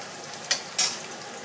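Eggs fry in hot oil in a pan for a stir-fried rice noodle dish, giving a soft continuous sizzle with two brief louder crackling bursts.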